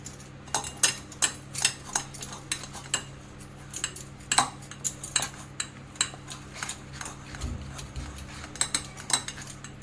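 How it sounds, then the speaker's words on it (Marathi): Repeated scraping clinks of a metal spoon pressing curd through a sieve, irregular but steady strokes, close and crisp with no talking. "असा एक चमच्याने आपण असं चांगला असा चाळून घ्यायचा आहे"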